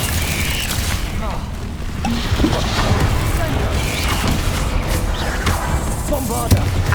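Confringo fire spell explosions in the video game Hogwarts Legacy burst amid a dense, continuous wash of magical combat noise, with booming impacts and crackling bursts layered throughout.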